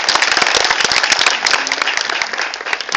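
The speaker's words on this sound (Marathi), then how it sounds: "त्याच्यामुळे एकदा जोरदार श्रीरंगासाठी टाळ्या होऊन जाऊ दे" An audience bursts into loud, dense applause for the poet Shrirang, sustained clapping from many hands throughout.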